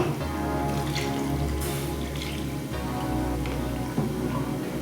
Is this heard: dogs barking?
no